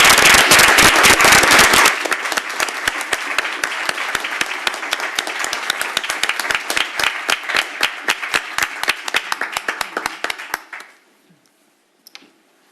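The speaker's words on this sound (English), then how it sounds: "let's have a round of applause for Lieutenant John Schwall" A room full of people at a Ferndale City Council meeting applauds new fire lieutenant John Schwall of the Ferndale Fire Department, loud and close at first, then settling into steady sharp claps that thin out and stop after about ten seconds.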